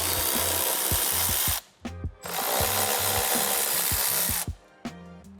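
A power tool unfastens the 10mm taillight bolts on a sixth-generation Toyota 4Runner, running in two long loud whirring bursts separated by short pauses with clicks and knocks.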